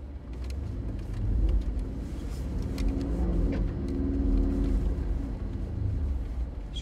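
A heavy Brabus G63 SUV's engine labors up rough off-road terrain in a valley, a loud, close, low rumble that swells twice as it revs, steady throughout with no speech.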